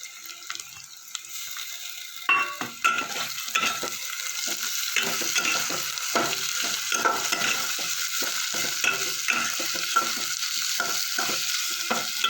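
Grated ginger and garlic frying with onions in a pan for a Bihari-style egg curry, a steady close sizzle broken by repeated scraping stir strokes at an irregular rhythm.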